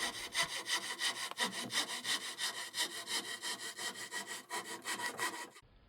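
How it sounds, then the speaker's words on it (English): A jigsaw cuts the bass F hole in a wooden guitar soundboard, a close, rapid rasping stroke rhythm running steadily for nearly six seconds before stopping abruptly. "jigsawing the bass F hole in the soundboard"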